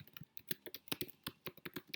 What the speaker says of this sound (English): So I am typing my email ID.